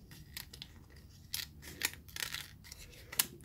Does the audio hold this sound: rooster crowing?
no